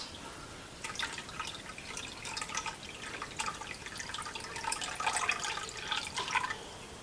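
Water pours into a pan filled with elderflowers as faint, bubbly splashing and trickling at a moderate distance, with quiet gurgles and drips over soft background hiss.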